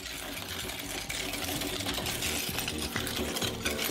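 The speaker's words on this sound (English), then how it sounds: "Plastic balls are not surviving the shredder, guys." An industrial shredder grinds up plastic balls in a loud, steady mechanical roar with rapid rattling and crunching throughout, close and dense with no voices.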